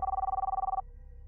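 A home telephone gives one short, warbling ring that stops abruptly after under a second, close and clear against faint background hum.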